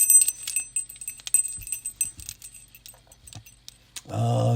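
Two keys for a Burg Wachter Gamma 700 padlock jangling and clinking in the hand, repeated bright metallic rattles close up, ending with a louder handling noise.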